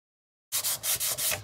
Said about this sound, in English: the high points will take your sandpaper and it'll leave this cool weathered effect